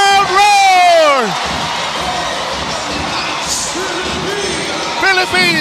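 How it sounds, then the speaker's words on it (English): A crowd roars at an indoor volleyball match between India and the Philippines at the AVC Challenge Cup, a loud sustained wall of cheering with rising whoops at the start and swelling again near the end. "And listen to this crowd roar!"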